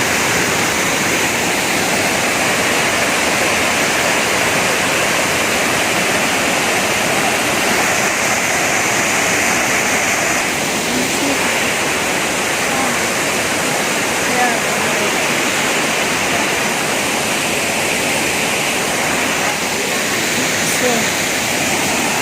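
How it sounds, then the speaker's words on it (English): Karura waterfall in Karura Forest, Kenya, roars with a continuous, loud broadband rush of falling water, steady and close throughout with no voices over it. "This is the famous Karura waterfalls."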